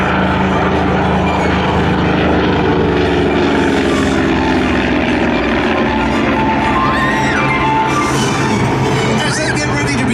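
Propeller-driven vintage aircraft, early planes flown by the Blue Angels, drone past at a California airshow, a loud continuous engine roar with a low throbbing rumble that holds steady throughout, with crowd noise in the background.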